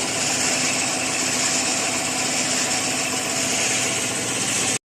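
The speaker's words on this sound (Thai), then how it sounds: "ตอนนี้กำลังเช็คเบิ้งเครื่อง" A car engine running during a check, a loud, steady mechanical hum with a buzzing edge that holds an even level and then cuts off abruptly.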